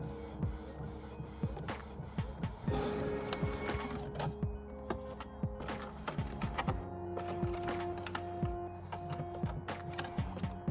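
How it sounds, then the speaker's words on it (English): A photo print run through an art printer, a dense mechanical whirring and clicking with repeated rhythmic ticks and steady motor tones, close and continuous with no voices. "Shall we have a go at actually printing a photo?"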